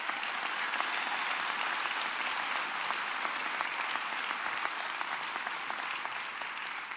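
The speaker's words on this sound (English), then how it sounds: "Let's give our city workers a hand of applause." An audience at a swearing-in and inauguration ceremony gives a steady, even round of applause for city workers, a dense clapping wash that holds throughout at moderate distance.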